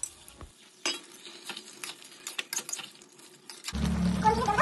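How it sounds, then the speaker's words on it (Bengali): Mutton pieces tossed onto spiced oil are stirred in a pan, with repeated scraping strokes over a steady sizzle that swells into a loud, dense fry near the end; no one speaks. "মশলার উপর মাটনগুলো আমরা দিয়ে দিলাম। এবার ভালো করে নেড়ে নেব।"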